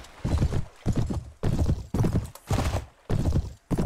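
A horse gallops in the video game Mount and Blade Warband, heavy hoofbeats arriving in loud, evenly spaced bursts of thuds, close and unbroken by talk.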